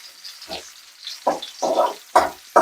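Sliced small onions fry toward brown in a pan, heard as about five rhythmic bursts of sizzling and stirring, close and fairly loud, with quiet gaps between them.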